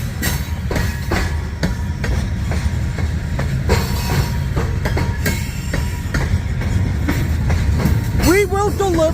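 A Union Pacific freight train passes in St Paul, loud and close, with continuous rumble and rhythmic clickety-clack of wheels over rail joints and a rising wheel squeal near the end; someone talks over it.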